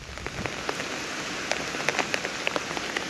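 Steady rain pours outdoors, a continuous wash with scattered louder drops striking a nearby surface, fairly close and with no voices over it.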